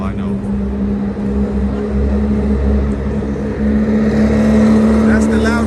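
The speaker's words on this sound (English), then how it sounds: "That's the loudest car." A loud car passes along a street in Moscow, Russia, its engine rumble swelling toward the end above a steady bed of traffic noise.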